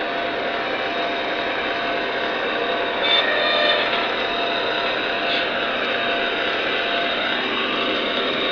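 An S1 locomotive rumbles steadily at mid distance, a broad continuous roar of rail noise with a brief brighter swell around the middle and no voices.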